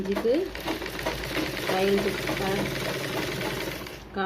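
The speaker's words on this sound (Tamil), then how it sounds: "தையல் போடும்போது ஃப்ரண்ட் பேக் போட்டு போடுங்க" A sewing machine stitches a blouse lining with a rapid, steady mechanical chatter close by, while a voice talks over it.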